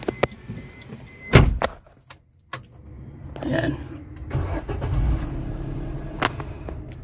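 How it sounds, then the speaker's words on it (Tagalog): A Suzuki S-Presso's engine is cranked and fires up from inside the car, with clicks and clunks first, then a steady low idle hum; one person says a word. "Start engine."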